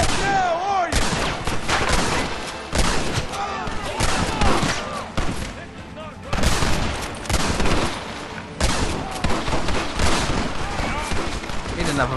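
Rapid gunfire in a Red Dead Redemption shootout, with dense volleys of shots and bursts that echo, coming in waves with brief lulls and loud throughout, while voices shout amid the firing.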